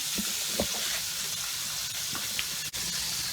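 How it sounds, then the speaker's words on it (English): Liver frying in a pan as part of Southern smothered liver and onions, a constant close sizzling hiss with a few small pops and clinks of cookware, no talking. "Okay, so the last batch is frying up."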